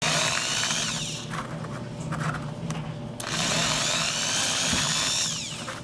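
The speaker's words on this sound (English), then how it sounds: "I'm going to have to drill out the handle slightly" A power drill whirs in two long bursts with a brief lull between, grinding steadily into a 3D-printed plastic handle up close.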